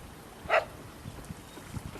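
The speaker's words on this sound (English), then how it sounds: "The dogs are playing in the river." A single short dog bark rings out near the start from dogs playing in a river in a children's cartoon, followed by quiet low rumbling background.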